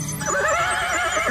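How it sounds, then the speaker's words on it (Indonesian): A horse whinnies loudly and close for over a second, a wavering, shrill neigh that rises and falls, heard alone with no talk, during a Javanese comedy drama episode where a man is set on horseback. "Ki Bandeng Kidal yang dinaikkan ke kuda."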